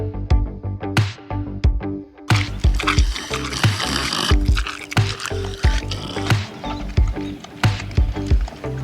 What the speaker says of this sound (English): Let's dump the water out.